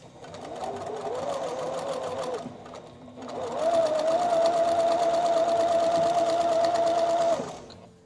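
Close, steady whir of a sewing machine stitching a flag quilt block, one run of about two seconds, a short pause, then a longer, louder continuous run before stopping.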